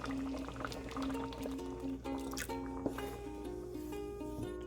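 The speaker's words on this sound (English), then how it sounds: "then we can add our coconut milk" Coconut milk pours into a pot of ginataan in a quiet, close liquid trickle and glug with a few soft drips, heard alone and fairly faint.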